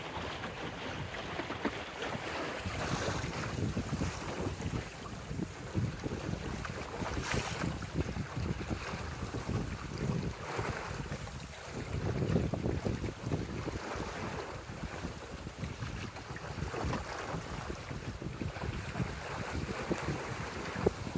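Steady wind rushing over a sailboat on the St Louis River Estuary, a broad constant whoosh with buffeting against the microphone and faint water swishing beneath, no voices.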